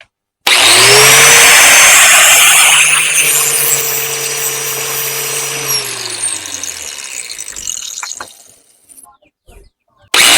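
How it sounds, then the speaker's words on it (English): An angle grinder with a flapper disc knocks the edge off metal, a loud, close, high whine that runs for several seconds, then drops in pitch and spins down. "we're just going to knock the edge off of these, and then we'll swap out the flapper disc for a cutting wheel"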